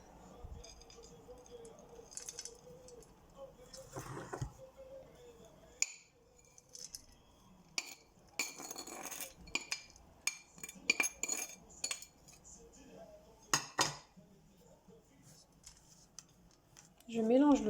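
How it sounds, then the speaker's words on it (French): Roasted almonds, peanuts and cinnamon stirred together in a bowl, giving irregular scraping, clinking spoon-on-bowl bursts with quiet gaps between them, while someone talks over parts of it. "Je mélange le tout avec la cannelle, les amandes et les cacahuètes."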